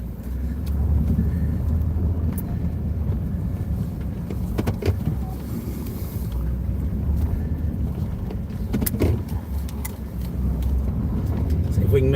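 A vehicle engine labors steadily up a hill on a rural trapline road in Maine, heard as a constant low rumble from inside the cab along with road and wind noise and a few faint clicks.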